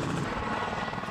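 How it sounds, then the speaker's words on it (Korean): A helicopter flies over Kauai with its side doors removed, a loud steady rotor and engine roar filling the short stretch without pause. "드디어 헬기를 탔다."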